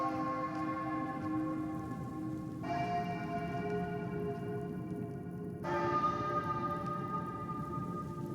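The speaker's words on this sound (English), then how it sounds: "Please don't tell me it was the bells" Bells ringing in the video game One Eyed Likho, several tolling strikes with long sustained overtones that swell again partway through, heard over a steady rain-like background with no talk.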